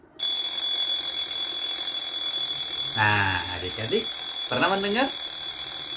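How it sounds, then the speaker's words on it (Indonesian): An electronic alarm rings steadily and continuously at a high pitch, while someone speaks briefly over it. "itu bunyi alarm"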